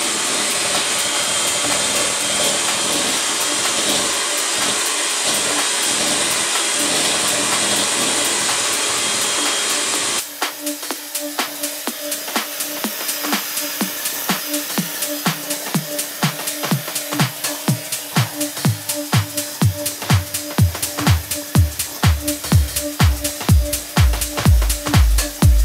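An electric mixer whips muffin batter with oil in a bowl, a loud continuous motor whine that shifts pitch midway, then a rapid rhythmic knocking of beaters against the bowl, close and alone.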